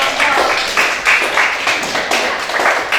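A classroom group of students clapping for a team after a correct answer, a steady, fairly close burst of hand claps filling the whole moment with no talk over it.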